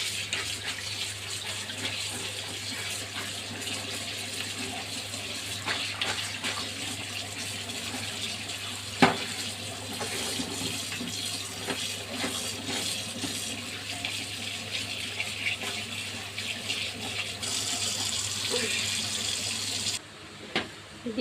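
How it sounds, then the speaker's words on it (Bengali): Hog plums being washed under a running kitchen tap, a steady close gush of water splashing over the fruit for about twenty seconds, with one brief clunk midway and the flow cutting off near the end. "ধুয়ে নিব ভালো করে।"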